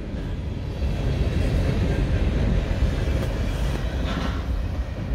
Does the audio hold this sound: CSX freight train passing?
yes